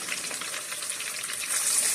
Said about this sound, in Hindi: गार्लिक जिंजर का पेस्ट का जो पानी है वो हम इसमें डालते हैं और इसके साथ इसको अच्छी तरह से फ्राई करते हैं।